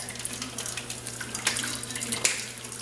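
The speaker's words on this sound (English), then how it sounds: "We're going to drain all the juice out of there." Juice draining from a slit in the bottom of a can while making beef stew, a steady close trickle and splash of liquid with a few louder gurgles.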